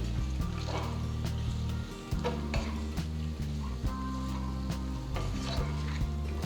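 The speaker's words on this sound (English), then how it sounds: "Using the spatula, cut the eggs into large pieces and flip them to the other side." Eggs fry and sizzle in a kadai, with a spatula repeatedly scraping and stirring through them, sharp metallic scrapes popping over a steady close sizzle and a soft tonal hum beneath.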